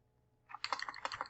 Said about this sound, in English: we're going to type in our call to action